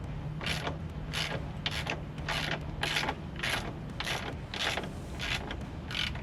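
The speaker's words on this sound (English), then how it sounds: "We're going to put our 14 on the other side, holding the head of the bolt, and just start loosening it up." A wrench turns the rear axle bolt on a Heybike Villain e-bike, giving a steady run of repeated ratcheting clicks, about ten even bursts over several seconds, close and moderately loud with no talking.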